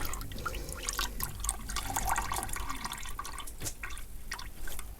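Coolant drains from a Suzuki GSX650F motorcycle in a steady trickle and splatter into a container, with a low background hum and no talk.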